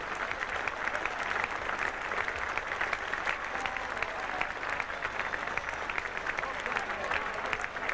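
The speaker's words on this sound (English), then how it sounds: "Applause too for the Australians who battled away hard." Cricket crowd applauds at the close of the 1977 Ashes Third Test between England and Australia, a steady, dense wash of clapping that holds at full strength throughout, with no voices standing out.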